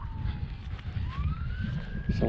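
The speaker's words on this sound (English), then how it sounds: "There's an ambulance right there." An ambulance siren wails faintly in the distance during a 50k running race, its tone sliding down and then rising, under wind noise and outdoor rumble.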